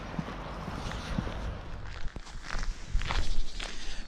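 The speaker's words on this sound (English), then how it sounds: "now I can walk another way. A way which is full of ice and snow" Footsteps crunch along an icy, snowy winter path at a steady walking pace, close and fairly quiet.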